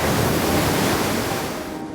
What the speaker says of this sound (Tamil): அலைகள் ஆவேசமாக இருக்கின்றன, இறங்காதே